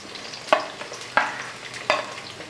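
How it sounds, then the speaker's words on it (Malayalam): Shallots, ginger and green chillies frying in oil give a soft, low sizzle, broken by three sharp scraping stirs spaced evenly apart, each one brief and close, with no voices. "ഇനി ഇതെല്ലാം കൂടെ ഒന്ന് ഇളക്കി കൊടുത്ത് ഇതെല്ലാം ഈ എണ്ണയ്ക്കകത്ത് ഒന്ന് മൂപ്പിച്ചെടുക്കും."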